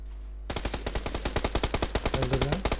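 Rapid automatic gunfire in the video game PUBG Lite on the Miramar map, a loud, close burst of evenly spaced shots starting after a brief quiet moment and continuing to the end.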